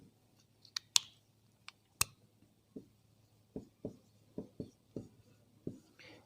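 Pen or chalk strokes during a chemistry lesson, a sparse series of soft taps and scratches spaced unevenly over a faint steady hum, with a few sharper clicks near the start.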